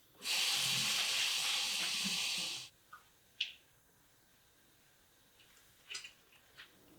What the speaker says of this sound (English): blanch them in boiling water for about 10 to 15 seconds